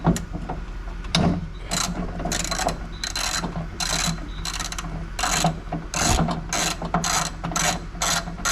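A hand ratchet clicks in quick repeated bursts while backing out two 10mm bolts from the trunk actuator of an Acura TL, the rapid pawl ticking close and clear with short pauses between runs.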